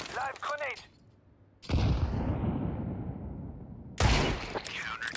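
Flashbang grenade and gunfire in the shooter CS2: a loud broadband burst with a long ringing decay that cuts off, then another loud blast, with brief game chatter at the start.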